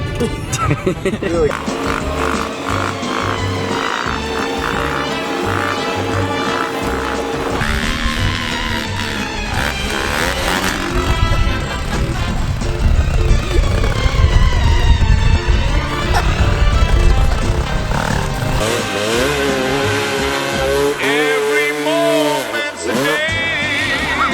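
A motorcycle with its throttle permanently stuck runs at a constant high, droning rev on a mountain ride, engine buzz loud and steady throughout while people talk over it.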